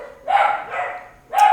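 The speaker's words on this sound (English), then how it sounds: "And the dogs are going off because a car just went round the corner. So they're barking." Several dogs inside a house bark at a car that just went round the corner, a pair of loud, close barks with a brief pause between, no talking over them.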